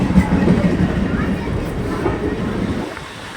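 A local train rumbles steadily at a railway station, a loud low continuous roar with faint rail clatter, and a voice talks over it.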